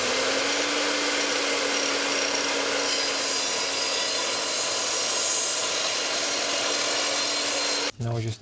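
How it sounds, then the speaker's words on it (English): Hand-sawing through a wooden plank, a continuous loud rasping stroke that runs steadily for about eight seconds before stopping abruptly, with no talk over it. "go cut some wood"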